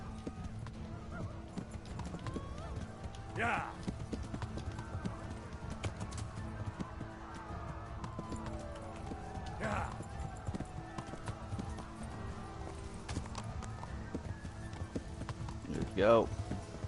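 Horse hooves gallop in a quiet, continuous clip-clop rhythm, with occasional louder bursts, while a person talks throughout, in the video game Kingdom Come: Deliverance.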